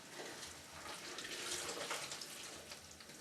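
Water running steadily from a tap to fill a container used for reclaiming pottery clay, a constant close rushing hiss with no speech.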